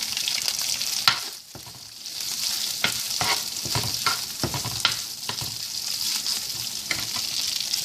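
Black pudding and onions sizzle steadily in a frying pan while a utensil stirs and scrapes at intervals, with a bright continuous hiss throughout.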